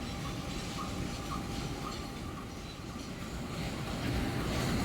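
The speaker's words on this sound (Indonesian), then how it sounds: "ini dia teman-teman lokomotif dinasnya 8909 81R ya nomor pendeknya" A rumbling, steady train noise at a station around the diesel locomotive of the KA Dharmawangsa train, numbered 8909 81R, moderately loud and continuous with a brief swell near the end, without speech.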